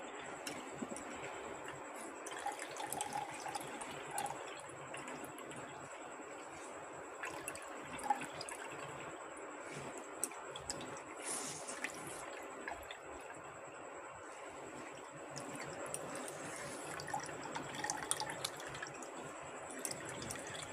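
Chhena whey drips and trickles steadily into a vessel for about twenty seconds as the pressed cheese curds are set aside in a kitchen; the patter is soft and continuous, with no voices.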